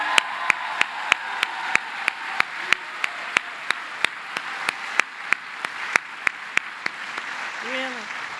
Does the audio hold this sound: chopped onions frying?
no